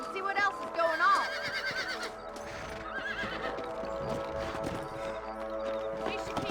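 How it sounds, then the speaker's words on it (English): In the Western video game Red Dead Redemption, horses whinny and their hooves clip-clop steadily at a gallop, continuous and fairly close, with characters talking over the sound. "Let's get back on the horses and see what else is going on."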